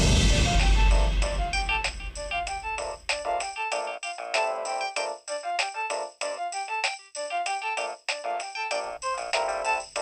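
A phone ringtone plays a bright, tinkling electronic melody of quick repeated notes. It starts over a brief low rumble and then rings on alone for about ten seconds.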